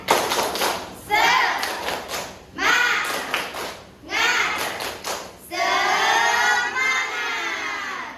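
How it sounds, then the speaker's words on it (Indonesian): Schoolchildren in a classroom perform a rhythmic spirit clap, with bursts of sharp claps and thumps alternating with their chanting voices, closing on a longer sustained group shout. "Kita tepuk semangat terlebih dahulu."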